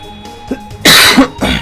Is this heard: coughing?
yes